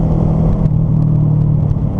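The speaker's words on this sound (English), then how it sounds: "That's like a little motorized quad, little two-stroke quad." A little two-stroke motorized quad drives by with a steady buzzing engine drone and rumble, close and fairly loud, holding an even pitch throughout.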